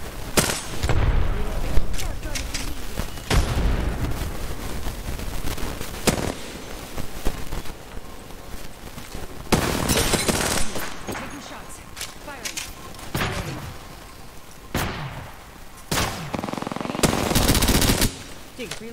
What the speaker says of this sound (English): Shooting. Reloading.